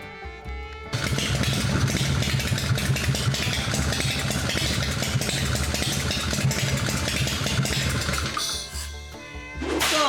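An engine fitted with a newly installed Dyna 2000i ignition system catches about a second in and idles steadily and loudly, then dips and picks back up near the end.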